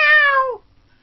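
A cat gives a single loud, close meow that holds steady for about half a second, then drops in pitch and cuts off into near silence.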